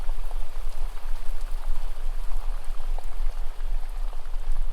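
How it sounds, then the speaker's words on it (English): Water flows gently and continuously near a river, a dense, steady burbling wash close by with no breaks. "the sound of the water increases its gentle flow"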